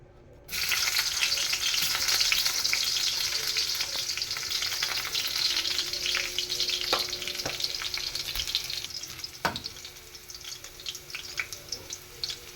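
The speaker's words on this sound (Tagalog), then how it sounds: "igisa na natin ang ating bawang" Garlic hitting a hot pan for sautéing, a loud close sizzle that bursts in and holds steady, with a few utensil taps and stirring sounds as it fries.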